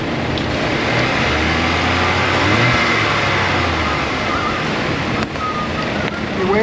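A noisy Cadillac engine revs in a repair shop, a loud steady roar with low harmonic engine tones rising and falling near the middle, broad noise throughout and no break.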